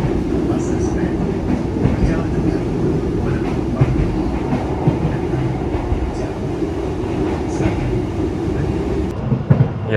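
An economy-class Menoreh train pulls out of Semarang Poncol station, heard from inside as a steady, loud rumble of wheels and carriage with faint clicks and murmuring voices in the background.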